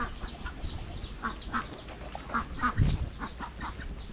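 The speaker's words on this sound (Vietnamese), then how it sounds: "Mấy chú vịt xiêm nữa nè." Muscovy ducks on a Vietnamese farm give short hoarse calls at irregular intervals, near and moderately loud, mixed with other poultry sounds and no speech.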